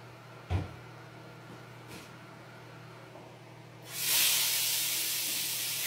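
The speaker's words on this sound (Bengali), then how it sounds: "ও আমার তেল পুড়ে গেল।" Hot oil hisses loudly in a home kitchen pan during Eid cooking with fried fish, a sudden strong sizzle bursting in after a quiet stretch with a few faint knocks and then holding steady.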